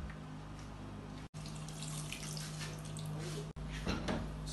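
Water runs steadily from a tap into a cooking pot while Edikaikong soup is being prepared, a close, continuous splashing stream with two brief cut-offs.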